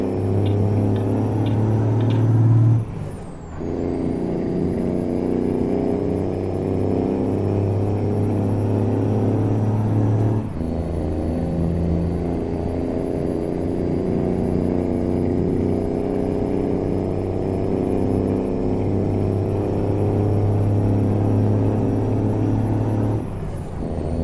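Heavy truck engine in American Truck Simulator on a Canadian road, a loud steady low drone held at high revs with brief dips and gear-change breaks near three and ten seconds, continuous throughout with no talking.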